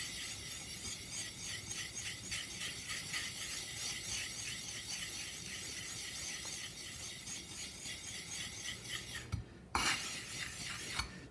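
Grape-skin pigment being worked into oil to make paint gives a soft, rhythmic scraping and rubbing, steady and close, broken near the end by a brief clatter.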